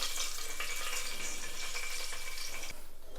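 Cinnamon pieces, cardamom, cloves and peppercorns frying in hot oil, giving a continuous bright sizzle with light crackles that drops slightly near the end, with no talking.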